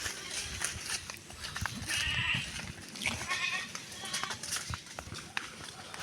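Goats bleating nearby in the open, a few cries amid rustling movement and people talking.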